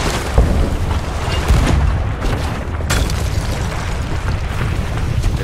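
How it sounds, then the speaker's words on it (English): A volcano erupts in a pirate-themed video game, a loud, continuous roaring rumble with heavier booms bursting out near the start and again around the middle, with no voices over it. "Volcano's erupting."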